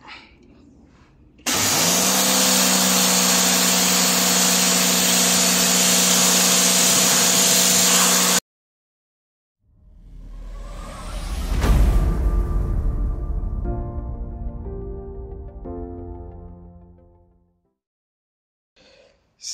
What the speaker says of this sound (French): Je vais faire le test du Karcher.